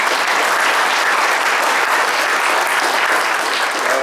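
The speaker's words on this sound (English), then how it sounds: "let's give a round of applause to the whole family" Dense, continuous round of applause from a large audience at an Air Force Academy award ceremony, loud and steady throughout without a break.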